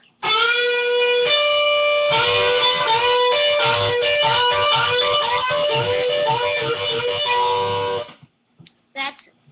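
An overdriven electric guitar rips through a fast solo lick with a full-step string bend, sustained and loud, then stops with a couple of short scraps of sound after.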